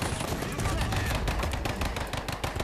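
Dense, continuous gunfire and bursts of shooting around a ZIS-3 field cannon under fire in a World War II video game, loud and close with rapid overlapping reports and a voice talking faintly beneath.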